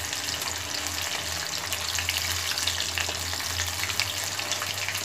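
Chicken 90 pieces frying in oil in a pan as they are turned over, a steady dense sizzle close by with faint scraping, no voices.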